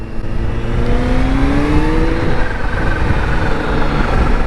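Kawasaki Z H2 supercharged super-naked motorcycle engine revving steadily nearby, its pitch climbing and falling through several smooth sweeps with a constant loud drone and no voices.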